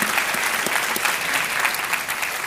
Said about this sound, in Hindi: तालियां बजनी चाहिए इनके लिए।